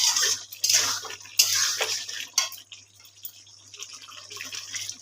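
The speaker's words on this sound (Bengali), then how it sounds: "দেখো বন্ধুরা, আমার ঝোল ফুটে গেছে।" Pointed gourd and prawn curry broth boiling in a pot, with irregular bursts of bubbling and sputtering over a faint low hum, close and fairly quiet.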